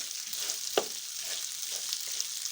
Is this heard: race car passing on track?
no